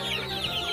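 Rhode Island Red and Hubbard crossbreed chickens cluck in a short, busy burst of overlapping calls, fairly near and loud, with no speech.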